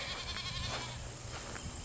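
Goats bleating on a farm during morning chores, several loud, close, wavering bleats overlapping continuously for the short clip.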